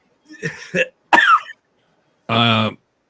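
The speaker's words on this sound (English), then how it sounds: "Turn to the left and cough next time." A few close coughs and throat-clearing bursts, separated by short pauses, ending with a voiced grunt-like sound.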